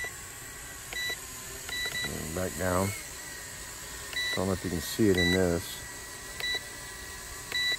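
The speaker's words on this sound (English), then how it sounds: "it does beep every time you hit the button, which is kind of annoying" A WL Toys Q696 Phantom XY drone gives several short, high electronic beeps spaced a few seconds apart as its controller buttons are pressed, while someone talks intermittently over a steady background hum.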